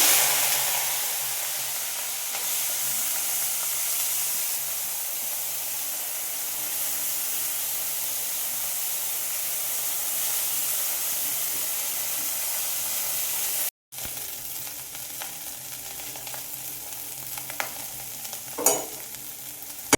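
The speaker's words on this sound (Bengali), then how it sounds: "এরপর চিংড়ি মাছগুলো ভাজার জন্য দিয়ে দিচ্ছি।" Prawns frying in hot oil in a miniature toy kitchen set, a steady loud sizzle and hiss that continues throughout, with a brief stir and clink near the end.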